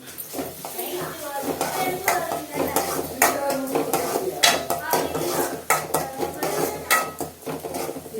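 A spoon clatters and scrapes against a pot in irregular, fairly close strokes while stirring an onion tamarind curry made without tomatoes, with a voice talking intermittently alongside.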